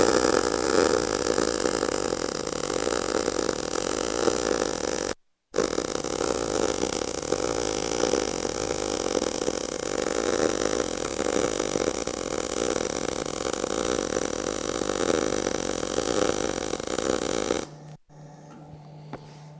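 A MIG welding torch runs a weld bead with a steady, continuous buzzing crackle, close and loud, broken by one short pause before cutting off near the end.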